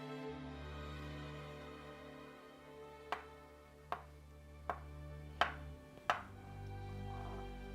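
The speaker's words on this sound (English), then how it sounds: "dividing the dough in 4 equal pieces" A knife cuts floured pasta dough on a work surface, five sharp, evenly spaced chops ringing out close by over a quiet low hum.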